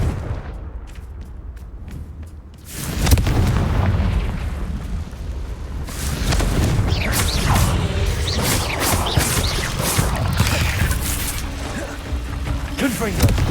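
Confringo fire spell blasts in the game Hogwarts Legacy: loud booming explosive bursts, a quieter lead-in, then repeated heavy impacts and crackling over continuous rumbling combat noise.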